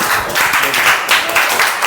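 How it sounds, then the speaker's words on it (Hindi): A classroom of students breaks into loud, brief applause on the teacher's cue, dense close clapping in several surging bursts. "एक बार तालियां जोरदार।"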